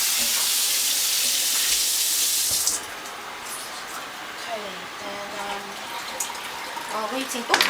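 Broadband hiss of a pot brought to the boil, with tomatoes tipped in, loud and steady for nearly three seconds, then dropping to a softer bubbling simmer with faint clinks and stirring.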